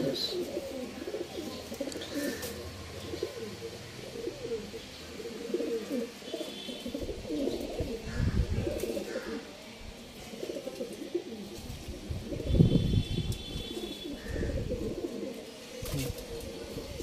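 Pigeons coo repeatedly in low, rolling bursts, fairly close, with a few faint higher chirps over a steady murmur of background noise.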